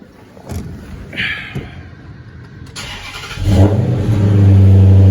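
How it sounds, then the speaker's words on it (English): Car starting after a bad fuel pump relay was replaced: a few thumps and clicks of the starter, then the engine catches and revs up into a loud, steady idle close by. "when I did that and I went back to start the car,"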